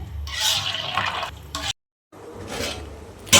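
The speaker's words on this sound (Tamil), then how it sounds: "நல்லா கொதி வந்துட்டுருக்கு பாருங்கள்." Thick mutton curry bubbles and simmers in a pot, with soft bursting and sizzling textures, broken by a short silent gap before the bubbling resumes.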